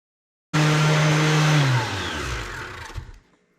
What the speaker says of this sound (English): that sander took off some of the black, but not all